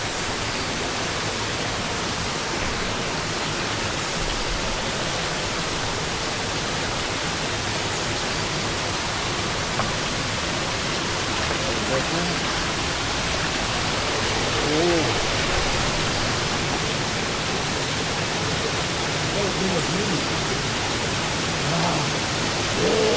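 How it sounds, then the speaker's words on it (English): A small waterfall at La Coca Falls in El Yunque, Puerto Rico, sends up a steady, loud broadband rush of falling water that holds constant throughout. "Little tiny waterfall."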